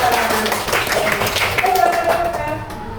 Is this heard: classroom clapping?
yes